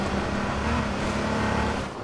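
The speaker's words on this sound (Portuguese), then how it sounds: "Tem um carro ali." A car in the video game H1Z1 drives with a steady broadband engine and road rumble, loud and continuous with no gaps.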